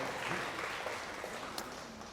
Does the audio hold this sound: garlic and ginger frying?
no